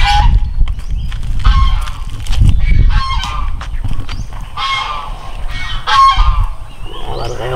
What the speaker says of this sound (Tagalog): Dito tayo, mayroon tayong kunting pato rin dito.